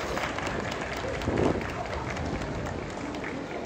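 At an outdoor dance festival in front of a Nagoya station, a dense crowd claps along in quick, steady rhythm, with a busy, noisy wash of sound throughout.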